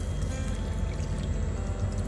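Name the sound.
water being poured into a pot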